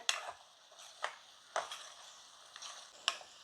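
Lentils, not yet fully cooked, are stirred in a pan: a handful of quiet, separate scraping strokes, about five in three seconds, over a faint low simmer.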